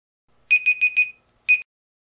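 A Google smart speaker's 9-second timer alarm beeps in a quick burst of four bright tones, pauses, then sounds once more, clear against silence.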